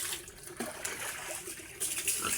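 Water poured from a container into pig feed, a soft continuous trickle and splash, fairly quiet, with a faint pig sound in the background.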